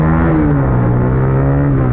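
Vehicle fitted with an aftermarket exhaust from Agrapoint revving close by, a loud, throaty engine note rising then settling to a rumbling idle over two seconds, with no talk.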